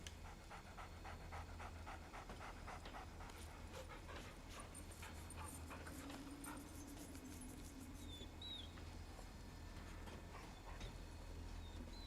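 A dog in the video game Remnant: From the Ashes pants in quick rhythmic bursts over a low game ambience, fairly faint and without speech.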